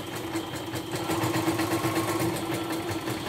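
Portable YOKO multifunction embroidery machine running steadily at a workshop bench, a continuous close motor hum with a rapid, even needle rattle and no talk over it.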